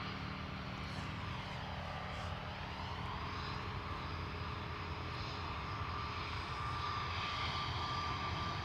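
An Airbus A321neo at Dublin Airport produces a continuous loud engine roar with a broad rushing whine, steady throughout as the airliner runs close by.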